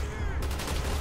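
Gunfire rattles in a Call of Duty Black Ops campaign battle: a dense, continuous burst of rapid shots, loud and close, filling the whole brief moment.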